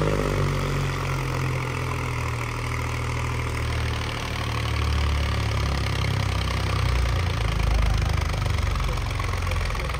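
A John Deere 5038 D turbo tractor runs nearby, its diesel engine chugging with a steady low throb and slight variations in load, loud and continuous with no talk.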